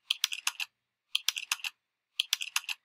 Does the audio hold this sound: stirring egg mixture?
no